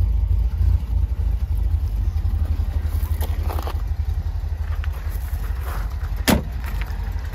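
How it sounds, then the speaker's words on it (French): A 1979 MGB Roadster with a sport exhaust idling, a deep steady low burble with a throaty pulse, close and continuous, with a few light clicks and knocks on top. "vous avez un petit échappement sport qui fait un petit peu de bruit"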